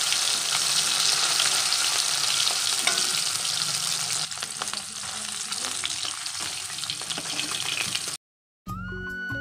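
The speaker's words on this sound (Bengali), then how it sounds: "আমি এখানে মাছগুলো ভেজে দিই, খুব বেশি কড়া করে ভাজবো না" Thin fish frying in a pan, sitapati among them: a loud, constant crackling sizzle with a few stirs, which cuts off abruptly near the end and comes back briefly in a different room tone.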